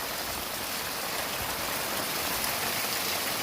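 Heavy monsoon rain pours down steadily in Dadyal tehsil in August, a dense, continuous roar of close, loud downpour with no voices.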